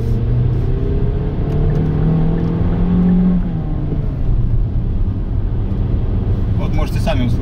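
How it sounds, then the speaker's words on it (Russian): A Geely Atlas SUV's engine drones and rises as the car accelerates, heard from inside the cabin as a steady low hum with a climbing tone, with someone talking over it. "Можете сами услышать, двигатели на разгоне довольно ощутимы."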